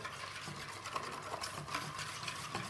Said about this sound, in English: And then we're going to just whisk those together.